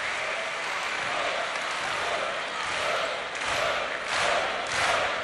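Loud, steady crowd roar with swelling applause fills an indoor arena during a men's singles table tennis semifinal, the noise rising in waves near the end of a tight game.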